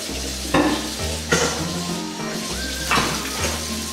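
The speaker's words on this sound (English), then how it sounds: "I know you don't want to watch me do the dishes" Dishes being washed: a few sharp clinks and clatters of crockery at irregular intervals over a steady low hum.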